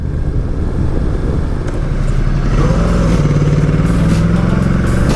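A 2018 Ducati Multistrada 1260S motorcycle being ridden, its engine a steady loud roar with a rising tone partway through, mixed with rushing wind noise and no talking.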